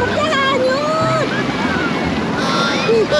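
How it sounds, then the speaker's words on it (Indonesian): Ocean waves wash against a beach in a steady roar with wind buffeting the microphone, while children's excited voices chatter over the surf. "Wah, ombak!"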